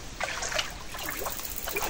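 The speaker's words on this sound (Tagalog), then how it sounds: "So sa malayo natin siya ay hahagis yung tubig para hindi siya bumalik." Water is scooped and thrown out of a dammed creek while draining it to catch snakehead fish, giving close, continuous splashing and trickling with irregular swishing surges.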